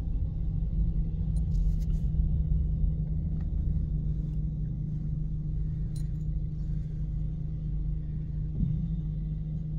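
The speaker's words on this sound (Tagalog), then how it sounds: "Grabing traffic." A steady low rumble of idling and creeping vehicles in a traffic jam on a flooded city road, heard from a nearby building, with faint clinks and no speech.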